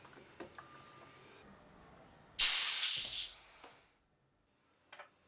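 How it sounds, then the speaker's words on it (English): Compressed air hisses sharply into a valve actuator on an Alfa Laval U7000 valve, a sudden loud burst lasting about a second that fades away, with faint ticks and clicks before and after in a quiet room. "please supply compressed air"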